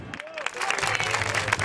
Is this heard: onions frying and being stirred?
no